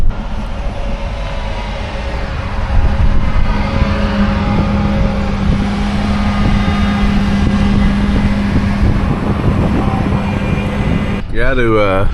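A large tracked combine harvester rumbles along a narrow public road with a low, steady engine drone and a sustained tonal hum, while someone talks over it and a sharp rustle ends the run.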